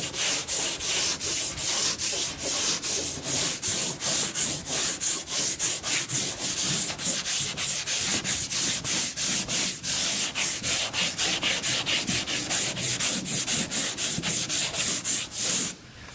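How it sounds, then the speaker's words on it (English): Steady back-and-forth hand sanding of body filler on a car panel, rapid rhythmic scrapes of sandpaper over a hard surface, close and continuous with no talking. "So I'll keep sanding."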